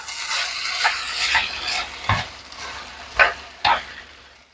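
Spiced eggplant filling is stirred in a pan with scraping spoon strokes over a steady sizzle, a few sharper clinks standing out.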